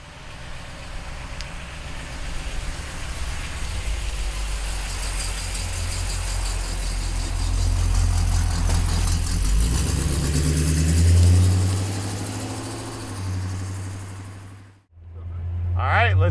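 A 1952 Chevrolet restomod pickup truck engine runs steadily up close, a low idle rumble that swells as the revs rise, briefly cuts out near the end, then resumes.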